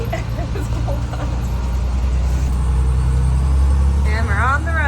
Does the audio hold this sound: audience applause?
no